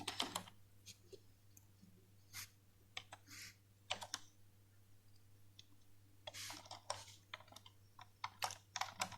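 Keys clack on a computer keyboard as C code for a linear search over an array is typed, in quick close bursts of clicks separated by short pauses over a faint hum.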